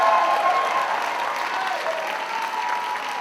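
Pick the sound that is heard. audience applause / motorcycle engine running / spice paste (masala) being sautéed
audience applause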